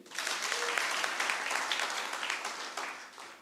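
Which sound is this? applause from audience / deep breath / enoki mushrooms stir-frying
applause from audience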